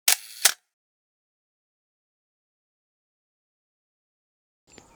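A Micro Four Thirds camera fitted with an adapted Canon FD 100mm macro lens fires its shutter: two crisp, close mechanical clicks in quick succession, then near silence with a faint rustle at the end.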